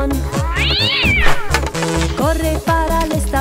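A cartoon cat lets out several drawn-out, rising and falling meows, loud and close, over a bouncy steady beat and melody of a children's animated song.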